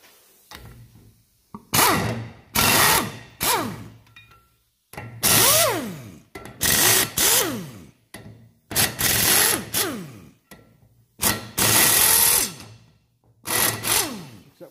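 A power tool spins bolts loose on the brake hub of a Range Rover Classic, about ten loud close bursts of whirring with short pauses between them, its pitch sweeping up and down within each burst.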